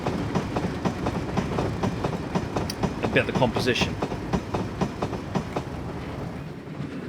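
A BR Class 31 diesel locomotive in Train Simulator on a 1950s Riviera route hauls vacuum-braked coaches, its wheels beating a rhythmic clickety-clack close by while someone talks over it.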